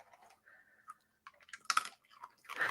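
A cat crunches a treat close to the microphone, with soft scattered chewing and crackling bits building to a louder crunch, quiet overall with no talking.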